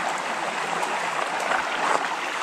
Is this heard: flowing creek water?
yes